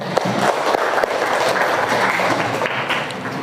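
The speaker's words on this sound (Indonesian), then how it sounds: "Oke, kita berikan tepuk tangan." A classroom of students applauds a presenting student group, a dense, steady wash of clapping lasting a few seconds at fairly close range with no talk over it.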